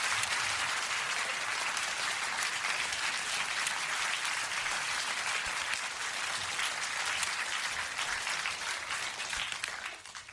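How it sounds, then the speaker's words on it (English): Applause for two presenters, Andrew and Squeeze, at an event: a dense, even roar of many hands clapping at steady strength for about ten seconds before starting to fade at the end. "I think that both Andrew and Squeeze deserve a round of applause."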